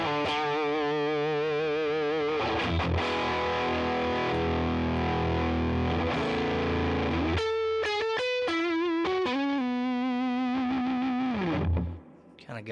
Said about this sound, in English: Kind of got some of that fuzz sound.